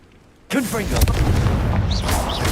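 A Confringo blasting spell explodes in Hogwarts Legacy, a sudden loud burst that erupts from near quiet into a sustained booming, crackling roar, with a sharp crack partway through and game voices calling out over it.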